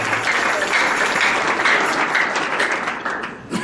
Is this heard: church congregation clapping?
yes